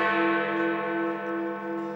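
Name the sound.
Big Ben clock tower chimes at 8 o'clock, London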